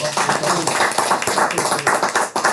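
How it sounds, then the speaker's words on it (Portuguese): A small group claps for a speaker during a live-streamed launch of a Paulo Freire literacy course. The quick, uneven claps are close and tappy, with talk continuing over them. "Acho que vale uma salva de palmas para o Gadot."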